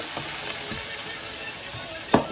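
Cooked onions are mixed in a pan with a quiet, even sizzle and a few gentle stirring strokes, ending in one sharper scrape.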